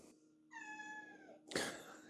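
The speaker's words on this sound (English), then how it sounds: "Can you stop meowing, please?" A cat lets out a single drawn-out meow close by, followed by a brief rustling burst.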